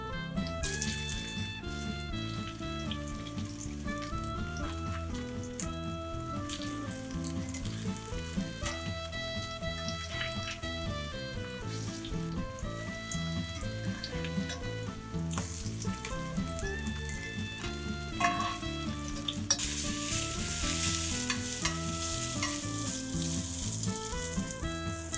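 Potato latkes frying in hot oil for Hanukkah, a steady dense sizzle and crackle that runs throughout at even loudness, with no talking over it.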